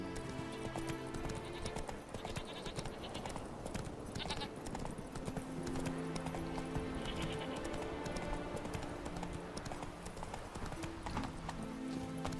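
Roach the horse gallops in the Witcher 3 video game, a steady, rhythmic clip-clop of hooves running continuously at moderate loudness, with faint game ambience and occasional horse snorts mixed in.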